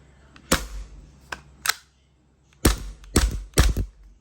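A Tokyo Marui Glock 17 Gen5 gas airsoft pistol fires dry several times, sharp metallic snaps spaced irregularly, with a quick cluster of three shots near the end.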